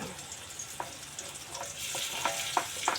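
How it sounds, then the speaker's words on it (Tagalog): Ginger stir-fried in a hot wok gives a faint, steady sizzle with soft clicks of stirring, growing a little busier and brighter toward the end, heard alone with no voices. "Ilagay lang natin sa tagiliran ng ating kawali. Sa ating wok. So, ayan, maglagay tayo ng ginger."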